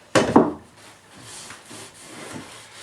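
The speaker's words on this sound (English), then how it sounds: "So I'm just going to wipe off this joint here and here." An ABS pipe joint gets wiped off during a bathroom plumbing repair, with two close, quick rubbing swipes at the start followed by faint handling noises.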